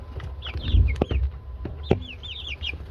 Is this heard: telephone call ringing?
no